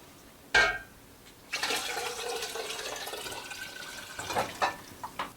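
A clunk, then a steady rush of homemade chicken stock pouring into a pot for a few seconds, ending in a few small knocks and splashes.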